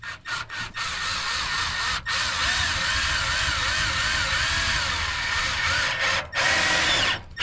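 A power drill drives screws into soffit at a lakehouse build, with the bit sitting loose in the screw heads. The motor whines loud and steady for several seconds, with brief stops at the start, in the middle and near the end.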